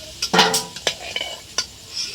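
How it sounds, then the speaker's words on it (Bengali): Pieces of green jackfruit frying in a wok-style kadai over a fire, with short bursts of sizzling and a few scraping stirs and clinks of a utensil against the pan, close and without talk. "এঁচড়গুলো ভেজে নিচ্ছি।"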